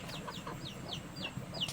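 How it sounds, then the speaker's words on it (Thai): Baby chicks of free-range farm chickens cheep while following the hen, giving a quick series of about six high, falling peeps close by over faint ambient noise. "อันนี้ลูกไก่เด้อ เกียบเกียบเกียบนำแม่ไปเลย"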